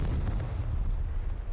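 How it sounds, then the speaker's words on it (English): A cannon blast in the video game Triangle Strategy booms loud and heavy, a deep rumbling roar filling the whole short moment. "cannon blasts through the goddess's shield as easily as iron through flesh"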